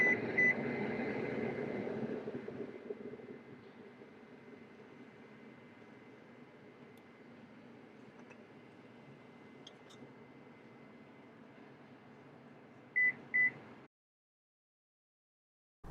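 Control confirmation beeps inside a Lexus LX 600, a quick pair of short electronic beeps near the end over a faint steady cabin hum.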